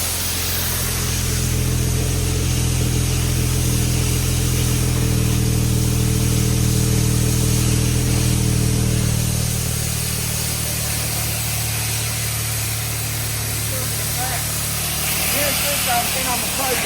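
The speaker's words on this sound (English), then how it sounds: "let them hear your exhaust running" A car's exhaust rumbles steadily at idle, swelling briefly as the engine revs before settling back to a low, continuous drone close by, with people talking at moments.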